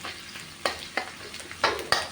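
Garlic and curry paste sizzle in hot oil in a pan, with a few sharp scraping stirs at irregular intervals, close by and no talking.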